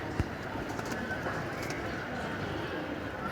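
Pigeons at a rooftop loft give soft, low cooing amid a steady outdoor background hum, with a brief thump early on; the birds sound fairly distant and indistinct.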